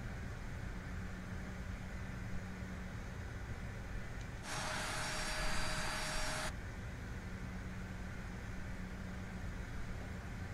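Airbus A320 engines in the Fenix Simulations add-on for Microsoft Flight Simulator give a steady, faint low hum, with a louder broad hiss swelling for about two seconds midway.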